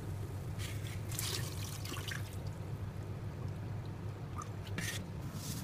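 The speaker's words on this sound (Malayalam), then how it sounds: "ഇനി ഇതിനെ നന്നായി കഴുകിയെടുക്കാം." Wheat grains being washed in water for a Malabar wheat biryani, with soft drips and trickles of water over a steady low background hum, close and fairly quiet, with no one talking.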